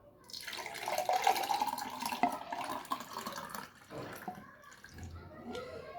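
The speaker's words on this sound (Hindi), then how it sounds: "ये 2 गिलास में हमने इसको डिश आउट करना है।" Homemade watermelon juice pours into two glasses, a soft close splashing trickle that swells, then tapers into fainter dribbles and pauses, with no talking.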